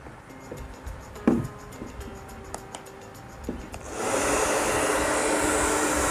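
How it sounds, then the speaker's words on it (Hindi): A hair dryer is switched on at full heat during an inverter load test. Faint clicks and handling noises come first, then a steady, loud broadband whoosh takes over for the last two seconds. "तो यहाँ पर हमारे पास है एक हेयर ड्रायर"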